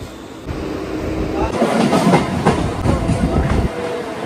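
A nearly empty night train running toward Chakdaha station rumbles loudly and steadily with rhythmic wheel clatter, and voices can be heard faintly.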